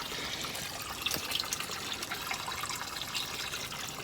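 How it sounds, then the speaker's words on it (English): Water drains steadily out of a backyard turtle pond in Australia, a continuous hissing trickle and splash with small bubbling drips, close and even throughout. "So most of the water's almost drained out of the pond now."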